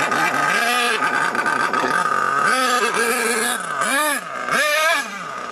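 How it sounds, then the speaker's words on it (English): A small high-revving nitro engine buzzes loudly and continuously, its pitch dipping and rising in repeated throttle swells toward the end. "I think it's just the engine loading up with fuel."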